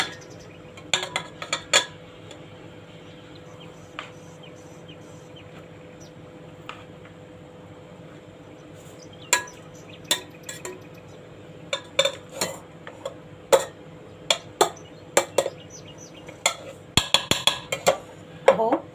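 Rice for meat biryani spooned in layers into a pot greased with ghee, giving scattered clinks and scrapes of the spoon against metal that come in bursts over a quiet background with faint room noise.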